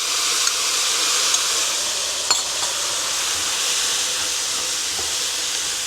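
Teriyaki sauce sizzles steadily in a hot HexClad pan over medium heat, a loud, continuous hiss with a few faint clinks and no talking.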